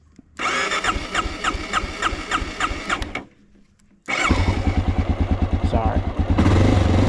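Honda XR650L carbureted motorcycle engine, warmed up, cranking into a rhythmic thumping, a brief pause, then firing again into a loud steady idle with lumpy single-cylinder pulses.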